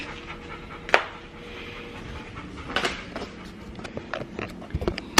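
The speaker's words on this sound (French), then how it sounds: "les chiens sont vraiment énervés, ils ont été 14 heures tout seuls" Dogs left alone for fourteen hours panting excitedly close by indoors, with quick breathy bursts and a few sharp knocks and clicks scattered through.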